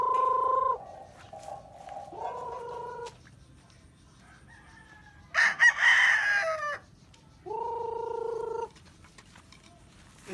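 Young roosters (stags) crow in several strained, rising calls at a backyard feeding, with one louder harsh squawk in the middle and soft ambient noise between the calls.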